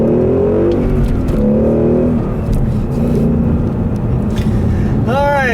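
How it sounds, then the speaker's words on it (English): A car accelerates hard with a loud, sustained engine roar that climbs through the gears near the listener; a voice speaks briefly at the start. "I'll leave you guys with a nice little acceleration here"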